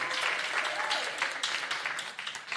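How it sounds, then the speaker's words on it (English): Audience members at a regional labour talk roadshow clap for the moderator, a lively, uneven patter of hand claps with a few sharper individual claps standing out. "I noticed that she's brought her people to clap for her."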